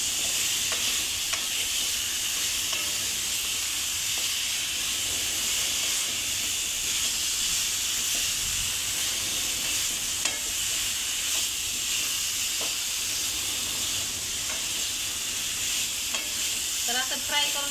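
Food frying in a pan: a loud, continuous sizzle and hiss throughout, close and steady, with faint occasional clinks of stirring and no voices.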